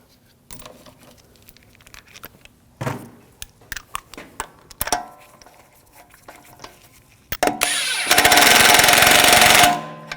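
Lug bolts being snugged down on an Audi wheel with a hand tool: scattered metallic clicks and clanks through the first part, then a loud, dense burst of ratcheting or driving noise near the end.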